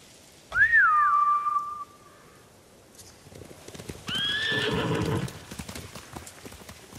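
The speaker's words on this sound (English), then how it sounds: "Bastards scared off the horses." Samurai horses in Ghost of Tsushima, a loud whinny near the start followed by a second neigh later, with hoofbeats clattering under both calls.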